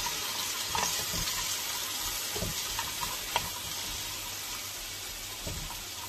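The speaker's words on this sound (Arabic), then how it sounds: "مقدار ديال الزيت البلديه، وغنصوتي فيها السيطاس" Mushrooms sauté in a pan of local olive oil with a soft, steady sizzle and scattered clicks of stirring, quiet and close with no talk.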